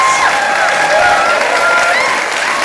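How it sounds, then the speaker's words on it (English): A dinner audience at the Children's Africana Book Awards applauds for Brenda Randolph and the CABA Book Awards, with dense, loud, steady clapping filling the room. "give a round of applause for Brenda Randolph and the CABA Book Awards"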